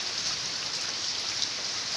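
Steady rain falls at a house, an even hiss of countless drops on surfaces filling the air continuously, moderately loud and without any voices.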